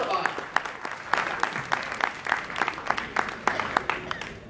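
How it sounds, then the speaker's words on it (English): Applause from a conference audience at a diaspora plenary session, a crowd clapping with some distinct loud individual claps standing out rhythmically, while a voice talks over it. "And now I really want a big round of applause. Big one. Come on, clap."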